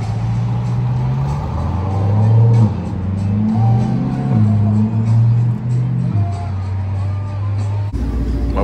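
A Dodge Charger SRT8 with a manual stick shift accelerates, its engine droning loud and close as the pitch climbs, drops and climbs again through gear changes, ending in a sudden cut to a different sound.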